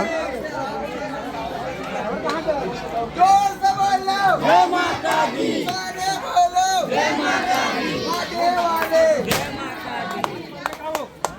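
Dense crowd of devotees outside the ancient Nag temple in Kundrapara, Gudhiyari, Raipur, a loud close babble of many voices with shouted chants rising and falling throughout.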